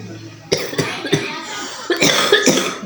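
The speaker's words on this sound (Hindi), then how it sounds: "जब देखो इसको भी खांसी होती रहती है।" Repeated coughing from a person with a sore throat, several short harsh bursts in quick succession, close and fairly loud indoors.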